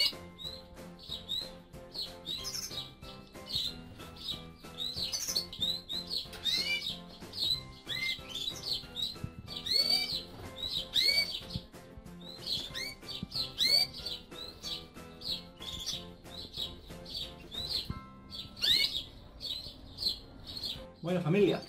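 Many canaries and goldfinches chirp and twitter continuously at once, a busy chorus of songbirds in an aviary with faint background hum.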